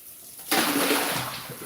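Excess water is wrung out of a damp towel in a home kitchen, a sudden loud gush and trickle that starts abruptly and runs for about a second.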